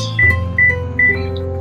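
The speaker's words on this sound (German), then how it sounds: "Handy macht jetzt die ganze Zeit rum" Mobile phone notification tones chime three times in quick succession, short clear beeps over a low steady hum.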